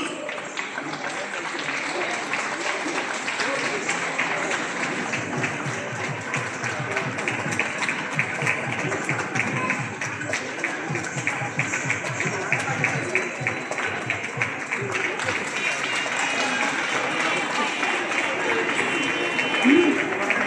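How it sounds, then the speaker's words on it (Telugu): An audience at a stage play applauds the cast in a long, dense wash of clapping that stays fairly even from start to finish, with voices mixed in underneath. "ఒక్కసారి అందరూ క్లాప్స్"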